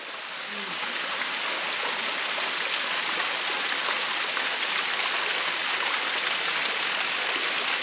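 Continuous rushing, pattering water dripping from tree roots, like steady dripping and trickling into a pool, loud and close with no voices.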